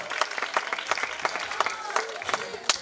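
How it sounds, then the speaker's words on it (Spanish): An audience of about 500 schoolchildren applauds at a school classical-music concert, a scattered, lively clapping with distinct individual claps spread through a large room, fairly faint. "os pido un aplauso para él, por favor"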